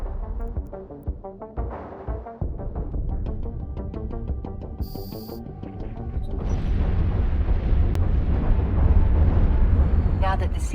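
A ship blows apart in Eve Online with a deep, rumbling explosion that swells and roars for several seconds, heard after a voice speaks over electronic game tones.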